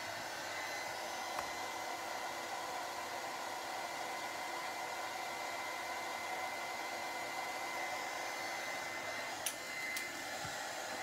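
A heat gun blows hot air to dry paint during a camera makeover, a steady, fairly faint whooshing drone that runs unbroken with a couple of small clicks near the end.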